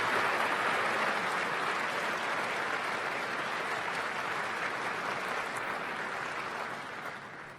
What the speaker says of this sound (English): I think Dr. Hamadoun Toure also deserves a round of applause